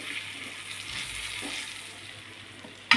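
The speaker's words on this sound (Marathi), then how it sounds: "मस्त तेलात अशी फ्राय करून घ्यायची" Stuffed capsicum frying in hot oil, a steady close sizzle and hiss that fades slightly, with a soft clatter near the end and no talk.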